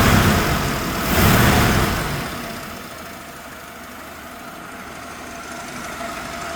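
A 1981 AMC Spirit DL engine that has sat unused and needs a tune-up runs steadily nearby, a broadband rumble that swells briefly near the start and then settles into an even idle.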